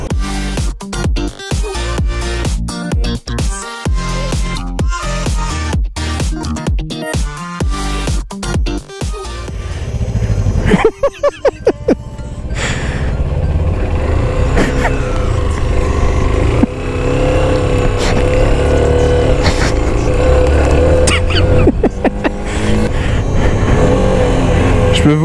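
A Honda CB125F motorcycle engine runs through a choppy, broken start, then settles into a steady, loud drone as the bike is ridden.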